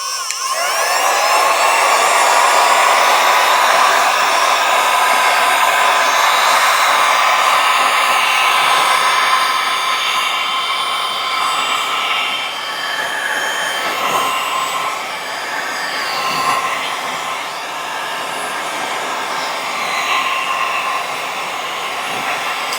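A space heater switched on and blowing hot air gives a loud, steady broadband rush that starts at once and holds for the whole stretch, easing slightly partway through, with no talking.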